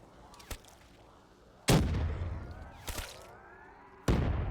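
Call of Duty zombies Ray Gun shots ring out in Kino Der Toten, loud sharp bursts with a lingering whirring tail, about three shots at uneven intervals.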